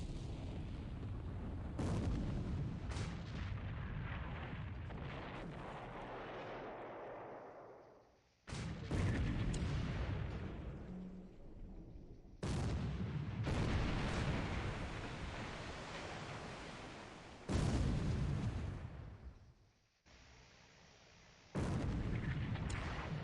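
Naval bombardment in the War in the Pacific game, with 15-inch shells striking: a series of five loud, heavy booms, each followed by a long rumbling decay before being cut off by the next.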